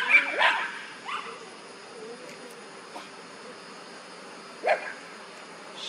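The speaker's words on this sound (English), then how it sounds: "Quiet, dogs." Dogs bark outdoors in Kingsland, Georgia, a few short, fairly faint barks spaced out over a steady hum of insects.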